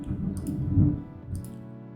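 Computer mouse clicked while drawing lines in the Plasticity 3D modeling software, two sets of quick crisp clicks over a low background murmur, close and fairly loud.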